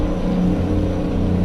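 A heavy truck engine in a truck simulator game holds a steady, loud, droning idle with a low, even hum and no clear rise in revs; nobody speaks.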